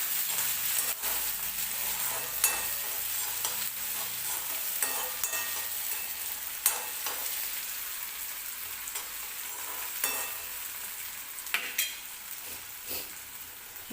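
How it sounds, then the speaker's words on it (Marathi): Chopped tomatoes sautéing with onion in a pan while being stirred for a Maggi noodle dish: a constant close sizzle overlaid with scraping stirs and occasional utensil clicks, no talking. "टोमॅटो पण छान परतून घ्यायचं आपल्याला."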